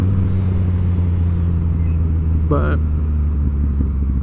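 A 2018 Yamaha MT-09 motorcycle engine droning steadily and loud while riding, a constant low rumble with wind noise, with someone talking over it.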